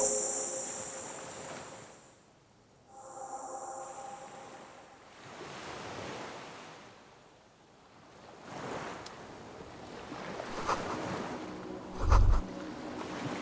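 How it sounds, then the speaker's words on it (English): A motorboat in the video game Disco Elysium slowing to a stop amid waves and wind on open water, its engine hum fading into the surf, with a low thud near the end and no talk. "The boat comes to a slow stop. The lieutenant turns the engine."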